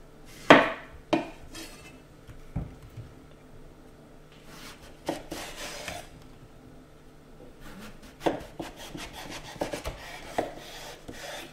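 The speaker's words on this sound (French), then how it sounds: "on va débiter la courgette en cubes" A knife chops washed zucchini into cubes on a wooden board, producing close, irregular knocks and scraping strokes in short bursts separated by quieter pauses.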